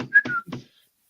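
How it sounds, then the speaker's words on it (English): A person whistles briefly after touching wood for luck, a short thin whistled note mixed with breathy sounds close by, then quiet. "Do you know why we touch wood and whistle?"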